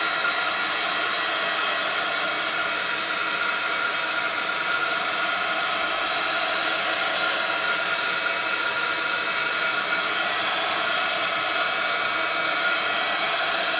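A heat tool or dryer dries a freshly stamped card, blowing a steady, loud, broadband whoosh that runs unbroken from start to finish with no voices.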